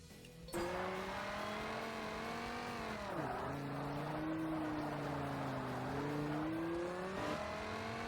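Race class car in Forza Motorsport on Xbox: a loud engine roaring steadily, pitch climbing through gears with quick drops at shifts around three and seven seconds, close and alone with no talk.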